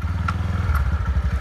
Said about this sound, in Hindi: तो पहले गाड़ी को स्टार्ट करता हूँ, किक को मारते हैं